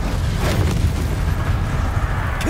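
Incendio fire spell cast in Hogwarts Legacy, a deep rumbling whoosh of roaring flame that stays loud and steady, with a faint rising swish near the end.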